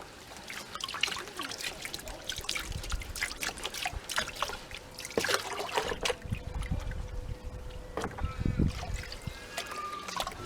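Water sloshes and trickles in a gold pan being swirled at a creek, close and continuous, with a few light knocks of gravel and metal.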